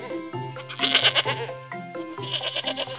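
A goat bleats several times in a row, wavering, nasal cries close by, with short pauses between calls.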